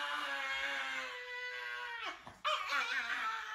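A dog whimpering and yipping in a clip from an internet compilation, high thin whines that waver and rise, with a sharp break and a louder burst of yelps near the end.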